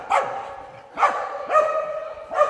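A dog barks four times in spaced, fairly close, moderately loud woofs during an outdoor dog skills training session with cones, each bark sharp with a short trailing tone.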